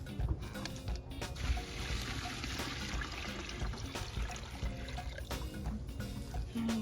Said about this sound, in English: we need to refill this bucket up with water